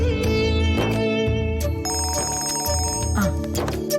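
A phone ringtone plays loudly as a bright electronic melody of repeated notes, running continuously for several seconds indoors with no talking over it.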